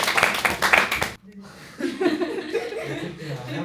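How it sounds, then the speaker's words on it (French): One person claps in a fast burst over a second, followed by chuckling and laughter with talk. "Je vous applaudis."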